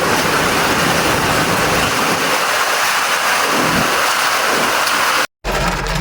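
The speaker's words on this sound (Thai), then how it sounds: "ฝนตกหนักมากครับ ฝนตกหนักจริงๆครับ" Heavy rain pours steadily outdoors with wind in a dense, loud, continuous roar that breaks off for a moment near the end before resuming.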